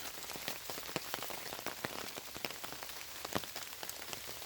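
Rain drips and patters onto a soaked creekside campsite during Tropical Storm Imelda, a steady close hiss dotted with many distinct individual drops, fairly quiet and with no voices.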